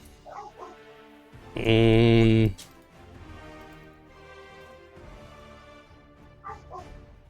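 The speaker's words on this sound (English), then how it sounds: "Somebody doggo barking?" A single loud, sustained dog bark or howl lasting about a second, with quieter background sounds and faint voices around it.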